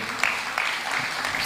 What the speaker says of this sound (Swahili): Tumpigie makofi mzuri.